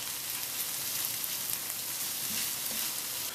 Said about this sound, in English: now I'm putting in the ginger, chopped, and the garlic. I'm just going to cook that through